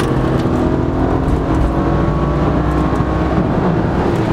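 A 400-horsepower BMW 335i accelerates hard, its engine a loud, continuous drone that keeps pulling without a break.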